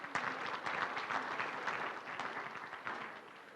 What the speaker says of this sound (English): So huge round of applause to each and every one of you.